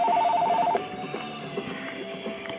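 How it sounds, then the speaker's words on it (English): A telephone rings indoors, a short electronic warbling tone that lasts under a second, followed by quieter room sounds and faint clicks. "Oh, there goes the phone."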